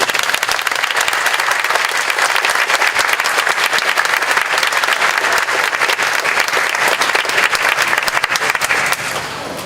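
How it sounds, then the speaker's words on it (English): An outdoor festival audience in Wisconsin applauds the Lieutenant Governor, dense sustained clapping from many hands that carries on for several seconds before easing off at the end. "Another round of applause for the Lieutenant Governor"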